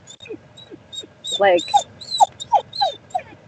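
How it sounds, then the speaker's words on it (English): A dog in a car whimpers and cries in a run of high, thin whines and short yips, fairly close, with a few louder whining bursts near the middle and end. "there's a crying dog in the car"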